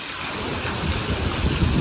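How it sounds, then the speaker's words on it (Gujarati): Heavy rain pours down in a dense, continuous roar, close and loud, with a deep rumble swelling underneath. "હા તો વરસાદ આવ્યો"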